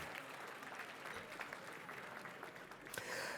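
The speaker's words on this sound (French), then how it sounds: "Je crois qu'on peut les applaudir." Audience applause fills a hall at a Quebec cooperative and mutual merit awards gala, a steady dense wash of clapping from a large crowd that swells slightly near the end.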